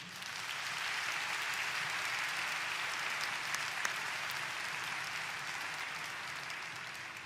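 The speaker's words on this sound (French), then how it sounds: "On peut l'applaudir, je pense" Spectators at an international show jumping event in Bordeaux applaud rider Brune in a steady, even wash of clapping that holds at one level throughout.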